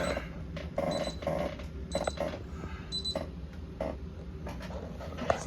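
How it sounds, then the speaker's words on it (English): A phone alarm sounds indoors as a repeating series of short high beeps in evenly spaced bursts, moderately loud over a steady background hum. "My alarm's going off."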